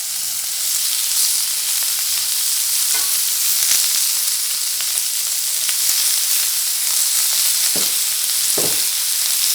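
Beef sizzles loudly on a hot Korean BBQ table grill, a dense continuous frying hiss with occasional pops and spatters, close and without talk.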